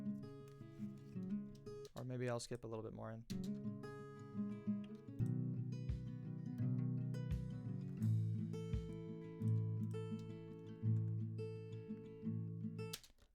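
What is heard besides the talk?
acoustic verse guitar recording played back in mix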